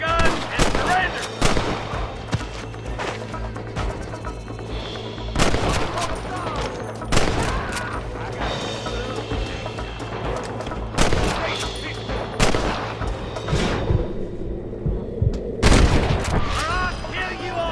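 Rapid bursts of gunfire from a Red Dead Redemption shootout, loud sharp cracks scattered throughout at close range over steady ambient game noise, with occasional voices.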